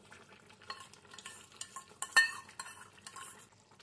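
A spoon stirs marinated chicken and added tomato paste in a frying pan, clinking scrapes against the metal over a soft sizzle, several sharper knocks in irregular bursts.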